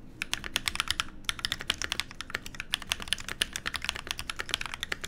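Custom mechanical keyboard with lubed KTT Mint linear switches being typed on, a fast, dense run of soft clacky keystrokes with a short pause, close and moderately quiet, no voices.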